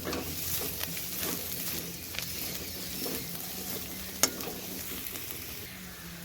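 Chilli and garlic frying in a spoonful of white oil, a close, continuous sizzle and crackle with soft stirring scrapes and one sharp clink midway.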